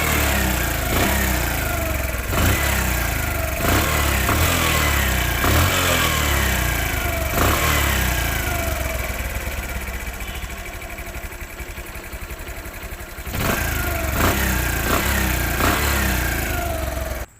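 A Bajaj Platina 100cc motorcycle engine runs steadily and close by for the whole stretch, a continuous loud throb with a short dip and then a pickup near the end, with no talking.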